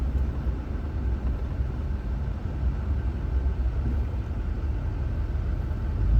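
A vehicle with an Allison transmission, converted from 5 to 6 speeds, slowing down, heard as a low interior rumble and road noise that eases and swells slightly, with no voices.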